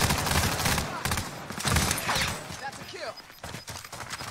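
Rapid video-game gunfire crackles in bursts across the clip, sharp shots cutting through busy battle noise at close range, with a few whistling tones near the end.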